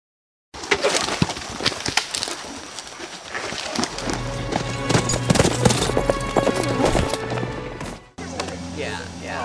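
Several horses gallop during a chase scene shot for a film, their hoofbeats loud, rapid and close, with a brief pause near the end and a rumbling undertone.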